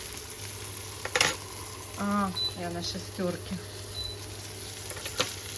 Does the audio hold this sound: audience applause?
no